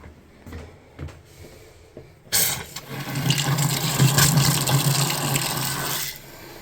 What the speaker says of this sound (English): let's flush these lines